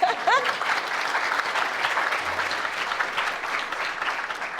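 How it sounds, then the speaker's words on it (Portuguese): Audience applause for a speaker at an academic extension event, a steady wash of clapping at moderate distance sustained for several seconds, with a brief voice at the start. "Salva de abro. palmas para ela"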